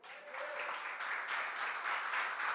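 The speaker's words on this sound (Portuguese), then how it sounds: "Pode aplaudir a Can you Jesus." A church congregation applauding in praise of Jesus, a steady wash of many hands clapping at moderate distance with a faint voice briefly audible at the start.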